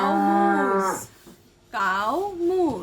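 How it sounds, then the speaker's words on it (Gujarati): A cow moos in two long, loud, drawn-out calls separated by a short pause, heard clearly with no talking over it. "કાઉ મૂઝ"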